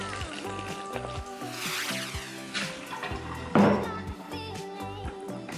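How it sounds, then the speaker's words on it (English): Water runs and splashes into a bowl for several seconds, with a brief louder splash partway through and faint background music underneath. "just gonna add some water."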